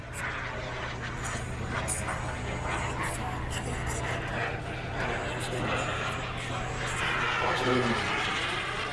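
A model jet aircraft engine runs steadily with a continuous whining roar and a low hum, swelling slightly toward the end as the throttle rises, while people talk over it.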